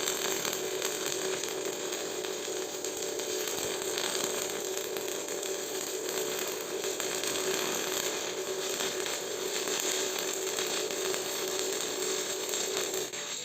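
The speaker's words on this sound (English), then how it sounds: "I'm going to weld at 90 amps. First, I'm going to weld slowly and make wide crescent shapes" Steady arc welding at 90 amps, laid down slowly in wide crescent weaves: a continuous, even crackling hiss with a faint buzzing tone, held without pause at moderate level and no voices.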